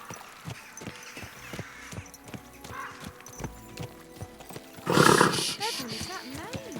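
Hooves clip-clop at a steady walking rhythm from a horse in the medieval game Kingdom Come: Deliverance II, then a loud, close neigh bursts out near the end, with faint ambient sound beneath.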